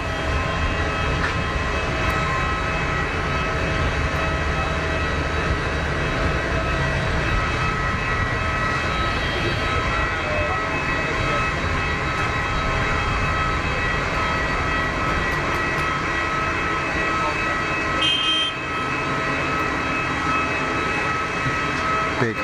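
A Gulfstream business jet at Geneva Airport gives off a loud, sustained engine roar with a broad rushing whine that holds steady and close for over twenty seconds, dipping slightly near the end.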